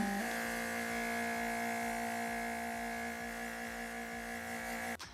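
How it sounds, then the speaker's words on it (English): An airbrush compressor for makeup blows air to dry freshly applied eyeshadow, giving a steady close electric whir with a constant tonal hum that cuts off abruptly at the end. "And now just use the air to dry it."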